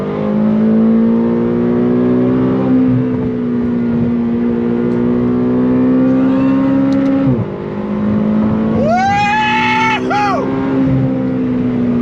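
A 2021 McLaren GT engine under throttle, a loud close droning roar that holds steady, dips briefly, then climbs in a rising whine before settling again.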